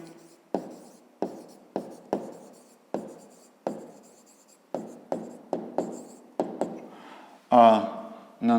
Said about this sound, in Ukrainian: а тепер записуємо відповідь